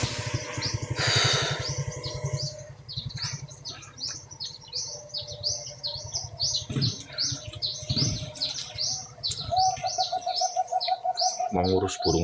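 Pet birds, including doves, keep up a busy stream of sharp chirps and tweets over a steady low cooing, with occasional rustles and a brief flutter, close and lively throughout.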